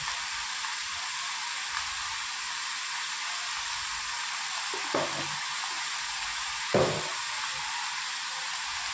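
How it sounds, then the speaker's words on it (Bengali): Vegetables cook in a pan with salt and turmeric under a constant soft sizzle and hiss, broken by two short scraping stirs of a utensil. "অল্প করে লবণ আর হলুদ দিয়ে দিলাম, এবার একটু ভালো করে নেড়ে দেবো"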